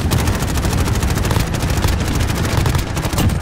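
MP5 submachine gun fire in a ground-war shooter game set at a palace, delivered as dense, rapid automatic bursts that run almost continuously and loudly through the whole stretch.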